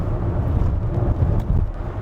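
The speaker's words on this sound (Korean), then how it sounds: "요런 데를 갔을 때 로드 노이즈가 기대했던 것보다는 조금 많이 들어오는 편에 속합니다." Steady low rumble of tyres on a road heard from inside a Hyundai Palisade Hybrid, with slight bumps and thuds as the wheels roll over potholes and rough patches.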